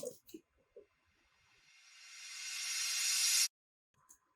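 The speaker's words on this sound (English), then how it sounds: "Then right before the verses, I just had this little riser effect." A synthetic riser swells steadily in pitch and loudness for about three seconds, then cuts off abruptly, with brief faint sounds before and after.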